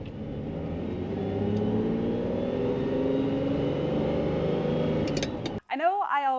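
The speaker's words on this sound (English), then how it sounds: "just listen to that wonderful 12-cylinder engine behind me" A Ferrari 512 TR's flat-12 engine hums and whirs steadily behind the cabin at moderate level for most of the stretch, then cuts off abruptly as a voice begins speaking at the end.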